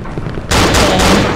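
A gunshot goes off in the horror video game Cry of Fear, a sudden loud blast after a moment of low background noise, followed by a sustained ringing burst, with no speech.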